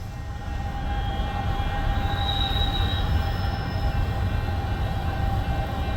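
Westbound freight train rolling into Missouri Valley, Iowa, at the start of a blizzard, a steady loud rumble of cars with a faint high wheel squeal partway through.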